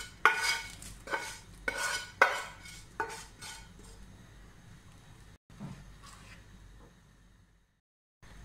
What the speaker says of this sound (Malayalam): നമുക്ക് ഇതിനകത്തേക്ക് വെജിറ്റബിൾസ് നമ്മൾ കുക്ക് ചെയ്തു വെച്ചിരിക്കുന്നത് ഇതിനകത്തേക്ക് ആഡ് ചെയ്യാം